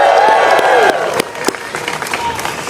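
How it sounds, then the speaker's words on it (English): An audience applauds at a New York City transit announcement event, a dense wash of clapping that is strongest at first and then thins into looser, scattered claps with a few sharper individual hits. "Let's give them a round of applause."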